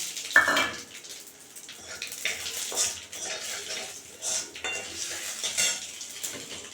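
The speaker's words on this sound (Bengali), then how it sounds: "এখানে রাঁধুনি আর কালো জিরে ফোড়ন দিয়ে দিলাম" Radhuni and black cumin seeds are dropped into hot oil for tempering, crackling and sizzling while a metal spoon clinks and scrapes against the pan in uneven bursts, close by.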